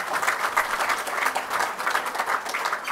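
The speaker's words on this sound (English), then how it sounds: "Give them a round of applause." Applause from the audience at a golf association awards evening, a full room clapping steadily in uneven pulses, moderately loud and continuous throughout.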